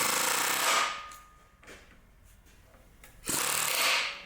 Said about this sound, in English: let's see if I can get this pulley off